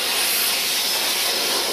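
An espresso coffee machine in a recording studio lets out a steady, loud steam hiss that runs unbroken and close for the whole short moment, with no talking.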